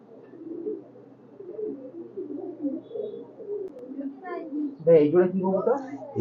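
Pigeons coo at a Khulna pigeon farm of red-necked highflyer pigeons, soft low calls running steadily throughout while someone talks over them, louder toward the end.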